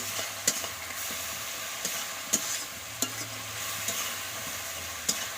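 Spices with turmeric and salt are stir-fried in a pan over a wood fire for a meat dish: steady frying hiss with periodic sharp scrapes of the spatula against the pan, close up and with no talking.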